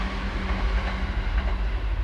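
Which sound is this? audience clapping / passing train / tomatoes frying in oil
passing train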